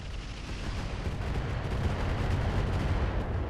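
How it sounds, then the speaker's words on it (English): Mech weapons fire on a Striker in the RogueTech battle game, a steady loud barrage of booming, rumbling gunfire and artillery-like blasts rolling on without a break. "Okay, we'll fire on the Striker."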